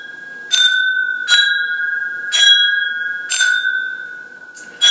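Drinking glasses clink together in a toast, five bright ringing strikes spaced about a second apart, each leaving a clear sustained tone that hangs between hits, close and loud with no talk.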